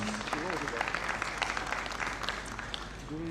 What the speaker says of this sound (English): I think is something that deserves a resounding round of applause.